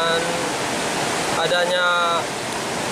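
Ponot waterfall, a tourist site, pours as a constant broadband rush of falling water, loud and steady, while a voice speaks briefly in the middle.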